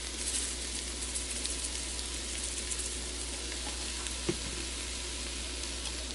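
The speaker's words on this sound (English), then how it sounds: "Okay, let's get all this stirred up." Taco pie filling with roasted garlic bouillon being stirred in a Ninja Foodi, a faint, steady sizzling hiss with soft scraping and a single small knock near the end.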